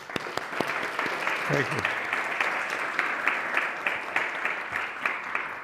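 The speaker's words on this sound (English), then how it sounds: "let's give him a big round of applause" Audience in a lecture hall breaks into a big round of applause for a speaker, dense steady clapping from many hands throughout, with a brief spoken thanks heard over it.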